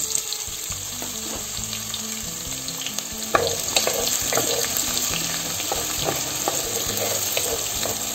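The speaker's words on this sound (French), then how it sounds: "Nous allons commencer par rajouter de l'huile comme ça dans la casserole. Faire revenir les oignons." Steady sizzling of onions frying in hot oil, with occasional stirring clicks and a brief louder scrape partway through; no talking.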